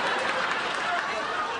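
Studio audience applause, a continuous dense patter of many hands with crowd murmur and voices mixed in, steady throughout.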